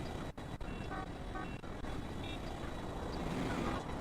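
Edited traffic scene with car horns: faint, brief high horn toots over a constant low roadway rumble of passing vehicles, with a few sharp clicks early on.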